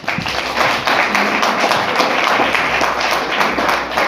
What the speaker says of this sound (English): Let us clap hands for Mr.